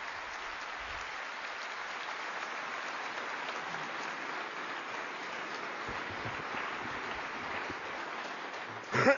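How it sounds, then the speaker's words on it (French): A crowd at a French political rally welcoming François Bayrou gives long, even applause, a soft rain-like patter that holds steady before a brief louder burst at the very end. "je vous demande de lui réserver un tonnerre d'applaudissements"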